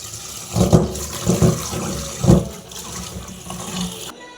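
Okra is rinsed under running kitchen water, with close splashing that swells in several uneven surges over a steady trickle before cutting off abruptly.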